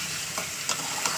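Large chicken leg pieces fry in hot oil in a home kitchen, giving a constant close hiss of sizzling. A few soft pops and stirring clicks rise briefly above it.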